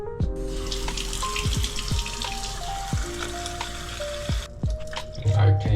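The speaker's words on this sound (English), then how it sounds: "You add some water." Water poured from a tap into a pot of oats while making homemade oat milk, a steady splashing rush lasting several seconds with clattering knocks, under background music and with light talk.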